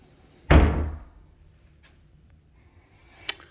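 A door is shut once with a solid thump during a house move-in inspection, a single loud impact that decays quickly, followed by quiet room tone and a faint small knock near the end.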